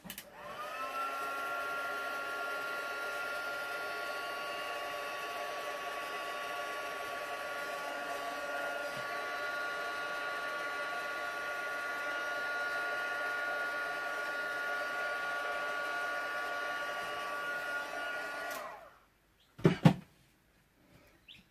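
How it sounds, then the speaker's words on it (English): Heat gun blows steadily on watercolour ink for about eighteen seconds, a close, even whirring hiss that stops abruptly and is followed by a couple of sharp clicks and handling knocks. "we're going to just hit this with the heat gun"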